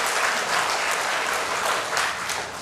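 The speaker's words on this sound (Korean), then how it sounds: "우리 서로에게 박수 한번 하겠습니다." Church congregation clapping together at an adult Bible school worship service, a dense, steady wash of applause filling the room for the full stretch without pause.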